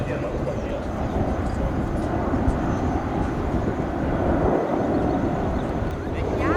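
A Sikorsky CH-53K King Stallion heavy helicopter roars through a high-speed pass at the ILA air show, a loud, dense, continuous rumble with wind buffeting and a voice narrating over it.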